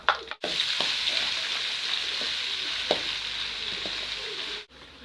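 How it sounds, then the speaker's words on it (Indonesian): Spices fry in strained chicken oil over a low flame for mie ayam, a steady bright sizzle with a few soft stirring knocks, briefly cutting out near the start and at the end. "gunakan minyak ini untuk menggoreng bumbunya"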